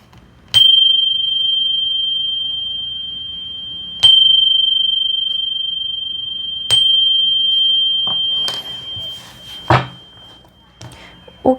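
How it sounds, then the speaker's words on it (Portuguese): A small bell is struck three times, a few seconds apart, each ring bright and clear with a long sustained tone that slowly fades, followed by some soft clattering handling sounds. "Tocar aqui meu sininho."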